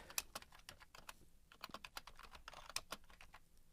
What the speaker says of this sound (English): And then type the caption.